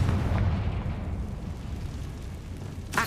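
A Confringo fire spell explodes in the Hogwarts Legacy game, a deep rumbling blast that decays into a low roar, then a sharp crack bursts in at the end.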